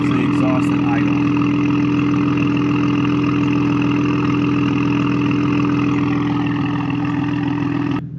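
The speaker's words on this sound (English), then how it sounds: "Here's the exhaust at idle." Audi B9 S4 fitted with an Integrated Engineering downpipe, idling with a steady, even exhaust drone held throughout at close range, no revving.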